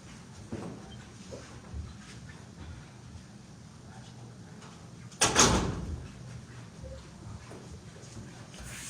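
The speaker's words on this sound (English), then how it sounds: "let me close this door" A door in a room is pulled shut with one loud slam midway through, preceded by faint rustling and small knocks in a quiet room.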